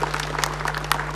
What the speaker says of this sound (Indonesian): Kita beri tepuk tangan Pak Bagio.